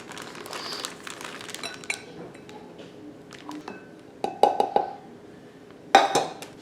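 Powdered sugar being measured out with a 1.5 cup measuring cup for a pumpkin sugar cookie glaze: soft scraping and taps, then a few sharp clinks of the cup against a bowl, near and clear.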